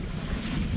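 Tap water gushing into a green hose for rinsing the inside of an RV black tank, a steady rushing hiss with low rumble, continuous and fairly close with no talk.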